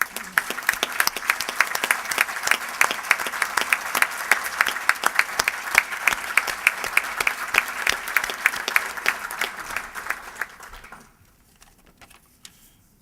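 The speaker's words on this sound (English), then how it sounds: "I'd like to give them all a round of applause." A sustained round of clapping from a dinner gala audience at a Rotary anniversary, crisp and loud with many overlapping hands, then dying away abruptly into near silence at the end.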